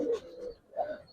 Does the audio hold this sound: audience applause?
no